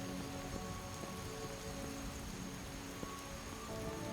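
Rain falls steadily in the video game Skyrim, a constant, even hiss of drops on surfaces with a few faint louder patters, with no voices.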